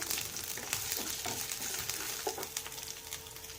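Cinnamon, cloves and onion fry in oil in a pan for a bean curry, a steady close sizzle broken by occasional scraping stirs and small crackles.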